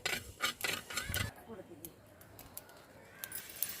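Fenugreek seeds roasting in a pan over a wood-fired stove, stirred with a metal utensil that gives sharp scraping clinks, loudest at the start and then fainter, scattered scrapes.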